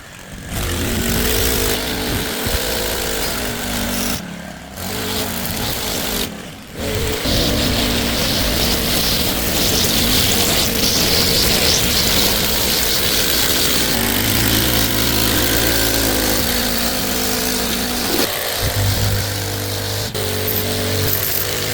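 A lawn mower drones loudly and continuously across a garden lawn, its engine noise steady with a couple of brief dips and shifts in pitch as it works.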